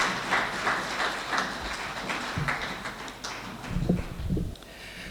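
Audience applause welcomes poet Abbas Tabish at a lifetime achievement award ceremony: a dense, steady patter of many hands clapping that swells and fades slightly over several seconds.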